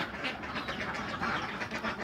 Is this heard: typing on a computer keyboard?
no